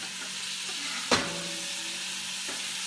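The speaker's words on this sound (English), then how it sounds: "you can hear that sizzle" Steady frying sizzle of spinach in a pan, with a sharp clatter of a utensil partway through and a faint scrape near the end.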